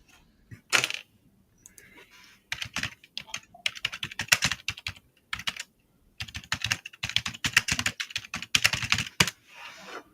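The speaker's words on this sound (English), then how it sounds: "He's beating the crap out of that keyboard." Someone pounds hard on a computer keyboard, sending out loud, rapid bursts of clacking keystrokes with a few brief pauses, all without any talking.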